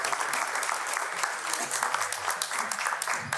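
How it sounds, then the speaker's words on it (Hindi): An audience at a poetry event greets a poet with loud, steady applause: dense, continuous clapping from a crowd, heard close and alone. "जोरदार तालियों से स्वागत करिए।"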